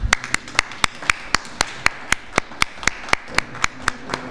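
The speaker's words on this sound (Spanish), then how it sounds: "Un aplauso." Steady rhythmic clapping from a small audience at a Christmas short-story and drawing prize giving in Nerva, sharp evenly spaced claps close by with little else around them.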